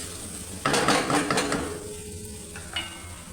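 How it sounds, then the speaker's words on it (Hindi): Dishes, pots and pans being washed in a home kitchen: a burst of clattering and rattling metal and crockery with running-water hiss, then quieter knocks, with no talking. "मैं इसको साथ साथ कह रही थी कि धोती धुलाती भी रहो बर्तन, क्योंकि फिर मैस हो जाता है किचन में"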